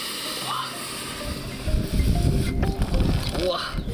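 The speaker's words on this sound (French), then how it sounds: "La vapeur gonfle la panse du yak et la chaleur continue de chauffer la viande dedans." Steam hissing as boiling water inflates a yak stomach stuffed with meat during cooking, a steady hiss under clattering handling noises and brief voices in the background.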